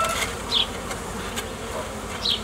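Honey bees buzz steadily around a hive after a swarm has been moved, a close, constant droning hum with a few individual bees flying past.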